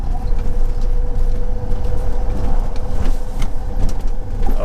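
An E-Type Jaguar accelerates in low gear with a continuous close engine rumble and road noise, plus some rattling and bumps from inside the car.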